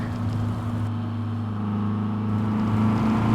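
Volkswagen Amarok pickup engine in Euro Truck Simulator 2, a steady low droning hum with a faint rise in pitch toward the end, heard alone without talk.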